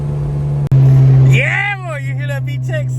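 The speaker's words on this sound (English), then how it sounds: "You hear that VTEC sound? It's all intake noise now." Honda Civic Type R engine accelerating hard in third gear on a street, a loud sustained intake roar with rising pitch as revs climb, heard from inside the car with a person whooping over it.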